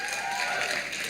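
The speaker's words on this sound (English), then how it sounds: "those of you who are clapping and screaming" Audience at a student Q&A session at a law school clapping and cheering, a dense, steady wash of applause filling the whole moment without a break.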